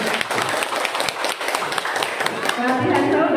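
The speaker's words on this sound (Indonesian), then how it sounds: "Sekali lagi tolong berikan tepuk tangan yang meriah Bapak Ibu" An audience at a primary school farewell ceremony claps in a lively burst. Hand claps patter densely under a voice, and the clapping thins toward the end while a tonal sound rises.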